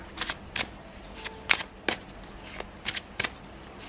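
Tarot-style cards are shuffled for a pick-a-card reading: a series of crisp riffling bursts in uneven rhythm, close and fairly quiet, with no voice over them.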